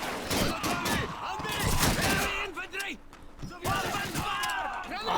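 Automatic weapon fire in the World War II shooter game Call of Duty 2, rapid bursts and thuds mixed with frequent talking over the action.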